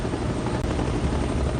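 A UH-1 Huey military helicopter from the Vietnam War era flies with a steady, loud low rotor thrum and engine roar throughout, no voices over it.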